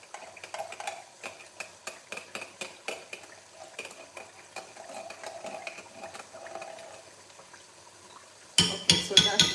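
Tomato paste is stirred in a cooking pot with oil, a spoon scraping and clicking against the metal in a regular rhythm that grows louder and harder in the last second.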